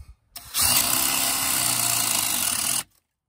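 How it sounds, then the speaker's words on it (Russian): A cordless drill with a 40 mm spade bit bores into wood. The motor starts abruptly and holds a loud, steady whine for about two seconds before cutting off sharply, with no voices. "Так, теперь тестируем на перьевом сверле."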